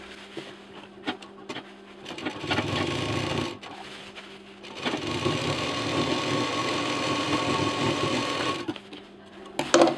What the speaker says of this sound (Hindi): यहाँ पर पहले हम डबल मशीन चलाएंगे